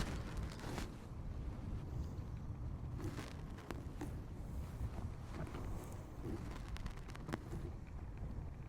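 Gusty wind buffets a microphone on an open golf course, a steady roaring rumble with sharper bursts of blustery noise throughout.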